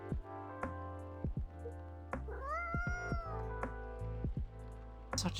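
A cat in the video game Coffee Talk meows several times, clear, close and tonal, with one long rising-and-falling meow in the middle and shorter calls around it, over a soft steady musical background.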